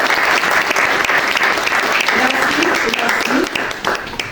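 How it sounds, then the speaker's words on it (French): Loud, close applause from an audience in a Senate salon honouring Haitian cocoa producers, distributors and partners, holding steady throughout before thinning slightly near the end. "vous demande d'applaudir les producteurs, distributeurs et partenaires du cacao haïtien"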